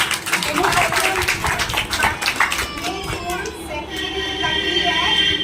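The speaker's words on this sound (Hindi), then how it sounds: "जोरदार तालियां" Loud applause from an audience at a school event, steady clapping carrying across the whole stretch, with children's voices mixed in.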